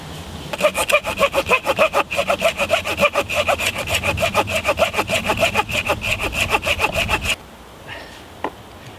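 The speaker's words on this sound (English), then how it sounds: "get my handsaw, we'll cut that back, we'll take that out." A handsaw cuts through resin-filled fatwood outdoors with a fast, regular back-and-forth rasp of about twenty strokes, loud and close, then stops abruptly and leaves a quiet pause.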